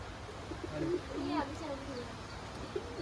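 Pigeons coo softly in low, warbling calls, a few repeated phrases over a faint background hum with distant voices.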